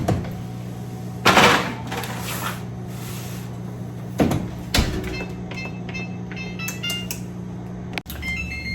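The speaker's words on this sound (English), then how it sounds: "So let me stick these in the oven." An oven door clunks open and a baking tray of oatmeal raisin cookies slides in with metallic scrapes and clatters, a few sharp knocks spread over quiet kitchen hum, ending with the door thudding shut.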